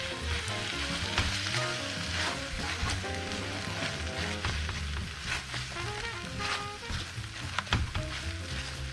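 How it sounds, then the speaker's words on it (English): Ketchup and lemon juice stirred together into a sauce for Dungeness crab, with a steady wet mixing and scraping that runs continuously and fairly loud over a background hiss. "We're going to mix this up real well."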